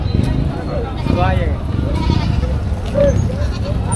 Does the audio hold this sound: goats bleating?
yes